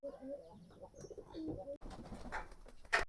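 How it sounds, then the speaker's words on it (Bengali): Pigeons in a pigeon loft on a cloudy, rainy-season day coo softly in low murmuring bursts, followed by a sudden burst of rustling and flapping noise and a brief sharp sound near the end. "আর এখন কবুতরগুলোকে খাবারটা দিয়ে দিই"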